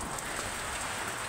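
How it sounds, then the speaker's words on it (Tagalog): Heavy rain pours down in a dense, even hiss of drops on surfaces, fairly soft in level and lasting only about a second. "Ang lakas ng ulan guys."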